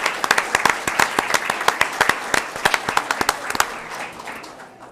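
Applause at a school district board meeting as students and parents leave the floor, sharp, separate claps close by forming an uneven patter that thins and fades after about four seconds.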